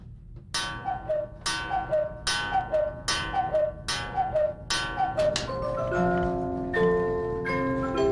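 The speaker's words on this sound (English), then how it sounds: "I'm standing under the world's largest cuckoo clock" Steady ticking and bell-like chimes from the world's largest cuckoo clock in Triberg, Germany, repeating in an even rhythm of about one strike per second, then giving way to sustained melodic tones near the end.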